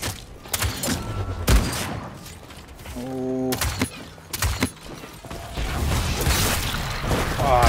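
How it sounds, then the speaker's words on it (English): An explosion and bursts of gunfire ring out in the video game Paladins, with sharp rapid volleys, a few heavy booms and mechanical clanks packed into several seconds. "Oh, I thought maybe that explosion was gonna catch him."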